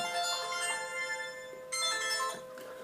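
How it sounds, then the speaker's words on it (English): A mobile phone ringtone plays a bright repeating melodic ring, fairly close and alone, with a brief break before the tune resumes. "So that's my phone."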